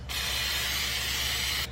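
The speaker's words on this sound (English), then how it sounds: "So first I'm gonna spray a little bit of canola oil spray." Canola oil cooking spray hisses into a pan in one steady burst lasting under two seconds, close and loud, starting and stopping abruptly.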